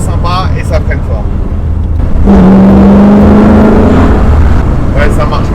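A Chevrolet Corvette C2 with a small-block V8 revs up loud and close, a rising engine drone building midway and holding steady, with voices talking over it.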